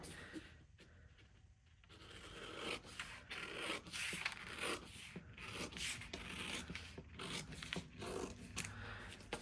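Scissors cut a paper sewing pattern along a drawn line, giving a soft, steady rasping and snipping close by, fairly quiet and continuous with small pauses between strokes.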